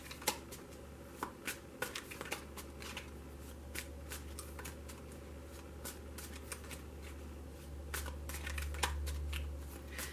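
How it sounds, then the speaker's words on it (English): Tarot cards riffled and shuffled in quick bursts of crisp flicking, close up, with brief pauses between, building to a longer continuous shuffle near the end. "I'm only going to shuffle it for a moment."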